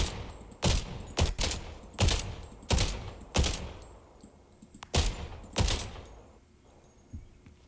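Gunfire in Fortnite, heavy booming shots fired one at a time with short pauses between them, about eight in all, close and punchy, each with a brief rumbling tail and no talking.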